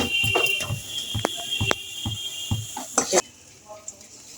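A spoon stirs a sticky coconut and jaggery filling in a wok, with repeated scraping strokes in an uneven rhythm, close and fairly loud, plus a soft sizzle beneath.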